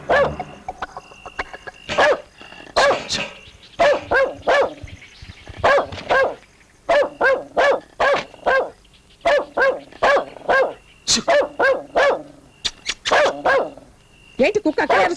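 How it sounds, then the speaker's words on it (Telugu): A dog barks loudly and close in repeated bursts of sharp barks with brief pauses, some growling between, with voices of people talking faintly in the background. "ఏంటి కుక్క అక్కడ అరుస్తోంది?"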